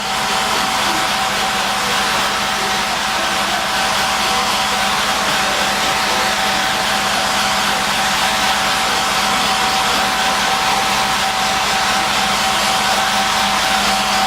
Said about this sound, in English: you dry it off with a hairdryer